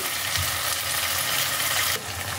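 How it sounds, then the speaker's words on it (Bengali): Tomato paste sizzles in a pan with ginger and garlic for dhaba-style matar paneer, a dense, steady crackling fry held close and constant, easing slightly near the end. "এবার আমি এর মধ্যে অ্যাড করছি টমেটো পেস্ট"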